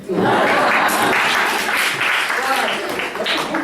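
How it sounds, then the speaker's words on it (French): Audience applause in an indoor setting, loud and continuous for the whole stretch, a dense wash of many hands clapping with a few louder claps standing out from the crowd. "Alors vous pouvez m'applaudir."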